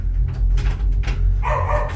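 A dog barks a few times, a bit distant, with a higher whining yip near the end, over a steady low rumble.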